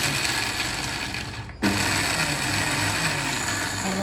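Electric blender grinding salted chickpeas with their skins, a loud, steady mechanical whir that briefly dips and then surges back to full power, close and continuous with no talking.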